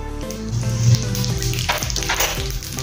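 Asafoetida and half a spoon of cumin seeds hit hot oil for stuffed eggplant, giving a steady close sizzle that runs under background music for the whole stretch.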